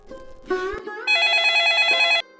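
A telephone rings loudly with one sustained, buzzing electronic trill lasting about a second, preceded by a brief muffled tone, as a call comes in from a bus depot.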